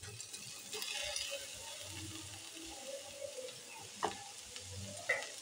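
Grated paneer being stirred and fried in a pan for a snack made from leftover roti: a soft, steady sizzle with light stirring scrapes and a couple of sharp taps, quiet and close, without speech.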